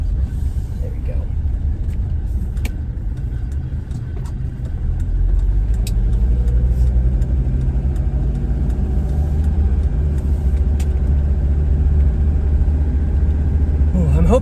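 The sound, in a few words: car engine while driving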